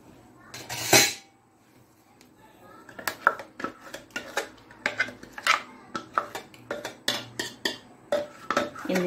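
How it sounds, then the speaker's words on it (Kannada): Coarsely ground cucumber paste for Mangalore-style guliyappa is scraped from a grinder jar into a vessel, a rapid series of sharp metallic scrapes and taps following one clatter, with a voice talking in the background. "ಈಗ ಇದನ್ನು ಅದಕ್ಕೊಂದು ಪಾತ್ರೆಗೆ ಶಿಫ್ಟ್ ಮಾಡ್ಕೊಳ್ಳೋಣ"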